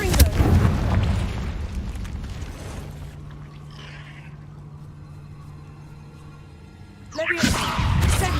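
A Confringo explosive spell bursts inside a cave in Hogwarts Legacy, giving a loud boom at the start, then a low rumbling hum that fades quieter before another heavy blast bursts in near the end.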